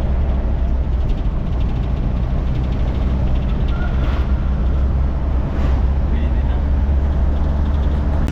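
A Toyota 5K engine runs steadily and loudly close by, a dense low rumble with a faint lift in revs near the middle, continuing throughout.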